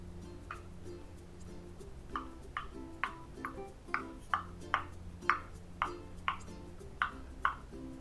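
Small popping clicks come from pressing the bubbles of a silicone pop-it coin purse, a faint, close series of about a dozen irregular soft pops over a steady low background hum.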